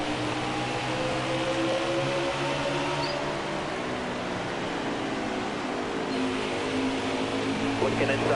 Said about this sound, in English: listen to the engines here on NASCAR Heat 5 for just a bit